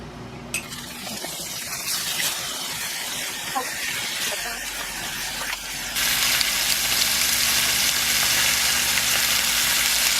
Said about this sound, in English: Heat it up and then fry the lobster.